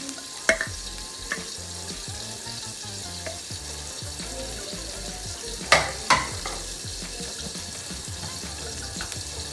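Crushed coconut roasts in coconut oil in a pan for a Kerala-style chicken curry: a steady low sizzle with occasional scraping stirs and a couple of louder clanks from the spatula. No one speaks.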